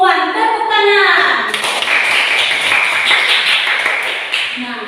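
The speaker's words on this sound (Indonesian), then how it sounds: "Tepuk tangan." Clapping hands in a fourth-grade classroom lesson: a short voiced phrase, then a dense burst of many hands clapping together that runs steadily to the end.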